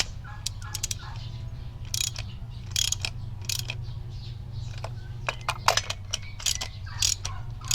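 A ratchet clicks while tightening spark plugs on a Toyota Wigo, with short bursts of sharp ratcheting clicks over a low steady hum, close and moderately loud.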